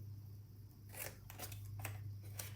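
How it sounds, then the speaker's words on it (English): Scissors snip through a paper treat box template, a few short, crisp cuts in quick succession close by over a low steady hum. "Cut off that little rectangle, and then cut off the wedges."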